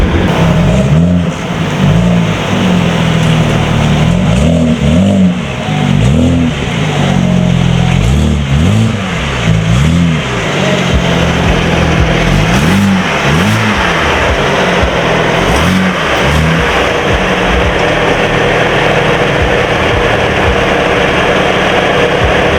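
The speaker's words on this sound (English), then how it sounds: "I'll give y'all some revs from outside" BMW 335i fitted with a VRSF chargepipe and Tial blow-off valve, revved repeatedly from outside the car, loud and close, with a steady series of rising and falling engine pulls over a constant idle drone.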